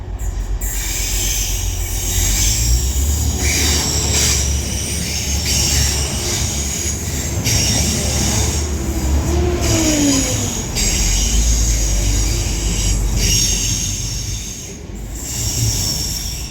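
A double-headed TransPennine Express Class 185 pair runs through Deansgate station toward Leeds, a loud steady rumble of wheels and carriages with a rising squeal of flanges on the rails midway.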